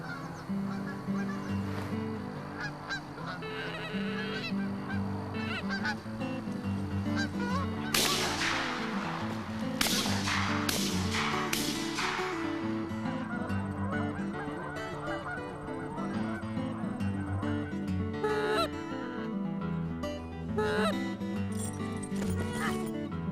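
Flock of Canada geese honking repeatedly during a hunt, calls layered and overlapping, some loud and close with others more distant, continuing throughout with a few sharp bursts in the middle.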